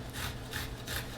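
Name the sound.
grating garlic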